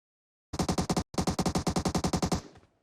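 Rapid bursts of automatic gunfire in PUBG Mobile, a short volley, a brief pause, then a longer string of shots fading out.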